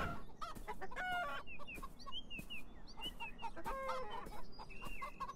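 Chickens in the video game Beyond Eyes cluck and squawk repeatedly, with sharp rising calls scattered over a steady background, fairly close and continuous.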